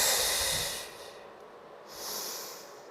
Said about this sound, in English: And I want 5 to 6 good, slow breaths